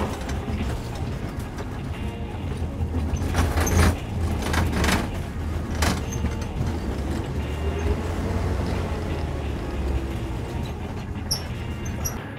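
A vintage ZIS-8 bus with a wooden, tin-clad body drives while turning around, its engine a steady low rumble with mechanical clatter and rattling throughout, plus a few sharper knocks near the middle.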